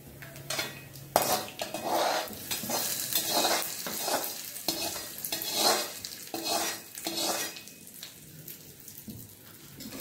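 Food frying in a pan while making raw mango chutney, with close, busy stirring, spoon scraping and clattering against the pan over a steady sizzle, in uneven bursts throughout.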